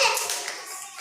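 In a classroom learning activity, young children give a short burst of hand clapping, bright and fairly close, lasting about a second.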